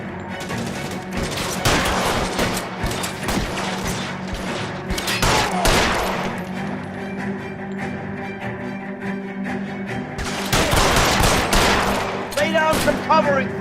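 Rapid bursts of gunfire crackle through a shootout in L.A. Noire during an arson case at Nicholson Electroplating, with dense volleys near the start and again after a quieter stretch, loud and sharp.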